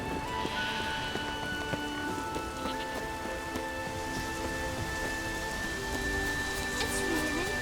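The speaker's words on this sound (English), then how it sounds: "It's raining." Rain falling in the video game The Witcher 3, a steady hiss of rain on surfaces throughout, with sustained musical tones layered over it.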